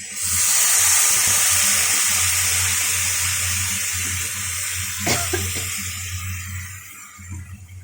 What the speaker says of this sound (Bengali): মশলা কষানো হয়ে গেছে, জল অ্যাড করে দিচ্ছি।